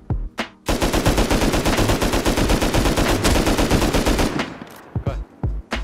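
Sustained automatic AK rifle fire in the online survival game Rust Console Edition, a loud, dense rattle of rapid shots lasting several seconds, bracketed by a few single cracks before and after.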